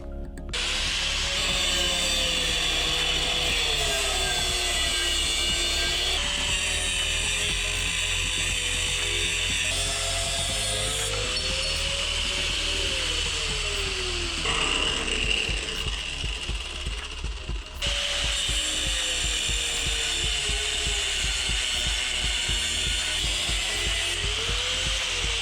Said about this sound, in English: So while I'm at it, I might as well grind all these brackets off here.